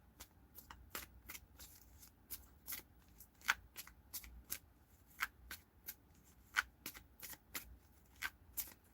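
A tarot card deck being shuffled by hand, a steady run of sharp riffling card flicks and snaps, close and fairly quiet, with no talking.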